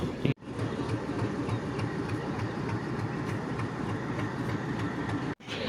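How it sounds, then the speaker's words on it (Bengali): A train departs Rajbari railway station, rumbling along steadily with a faint clickety-clack of wheels on the rails, continuous and moderately loud. "ট্রেন কিন্তু স্টেশন থেকে ছেড়ে গেল ওইদিকে যাচ্ছে"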